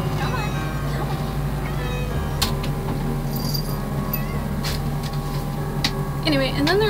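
A house cat meows a few times, rising and bending in pitch, mixed into a busy, noisy indoor background with steady hum and scattered clicks.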